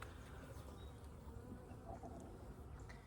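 Honeybees buzz faintly but continuously from an open hive during an inspection, a soft steady drone with no voices.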